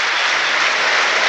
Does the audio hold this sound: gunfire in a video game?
no